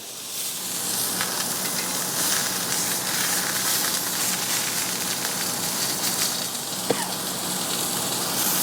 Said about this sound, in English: We're going to put that in a cast iron skillet. And we're going to sear this for 3 to 4 minutes per side